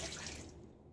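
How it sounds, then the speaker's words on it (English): Shaving bloom water poured out of a shaving soap bowl holding a Williams soap puck, a short close splash fading into a trickle. "Now I'm going to pour away my bloom water."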